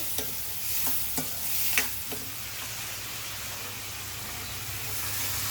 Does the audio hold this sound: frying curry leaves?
yes